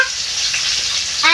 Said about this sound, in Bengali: এই মাছ ভাজা বসেছি, গ্যাস দিয়ে গেছে